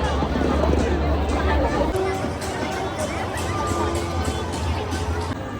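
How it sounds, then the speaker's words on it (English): Large crowd at Hong Kong Disneyland, a dense babble of many voices and chatter filling the space continuously, with people talking nearby amid the steady hubbub. "ये देखो कितना भीड़ है, कितना crowd है."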